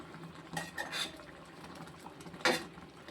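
Pot handled on a home stove while making a Tamil pachadi of wild citron, giving a few brief metallic clanks and scrapes spread over a few seconds, close and fairly quiet with no talking.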